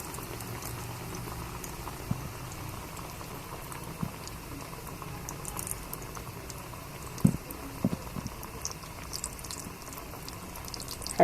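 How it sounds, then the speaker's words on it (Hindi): Chicken potato pizza cutlets fry in hot oil over a low flame, giving a quiet steady sizzle with scattered small pops and crackles, close and alone without speech. "मैं दो दो करके फ्राई करूंगी इन्हें।"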